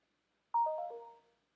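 A phone rings once with a quiet, isolated descending chime of three or four bright tones that fades out after about a second, against silence.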